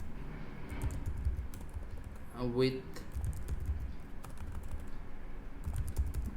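Light, rapid keystrokes on a computer keyboard with a faulty, unreliable response tap away continuously at low level while a person talks over them.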